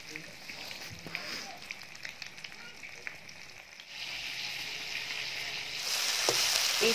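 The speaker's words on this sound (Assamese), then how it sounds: "প্ৰথমতে আমি মাছখিনি ফ্ৰাই কৰি ল'লোঁ।" Fish sizzles and crackles as it fries in hot oil, a steady hiss that grows louder and brighter toward the end, with occasional stirring clicks.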